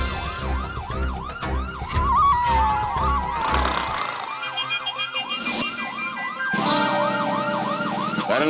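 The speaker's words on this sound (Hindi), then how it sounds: "ये एम्बुलेंस की नहीं, पुलिस सायरन की आवाज है।" A police siren wails in repeated rising-falling sweeps, loud and close, with a short break partway through before starting again, no talk over it.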